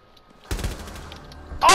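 A single sharp gunshot cracks out in Rainbow Six Siege, followed by a brief rumbling tail. A second burst of noise cuts in at the very end.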